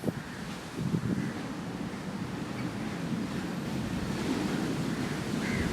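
Ocean waves washing onto a beach in a continuous broad hiss and rush, steady and fairly close with mild wind noise, no voices.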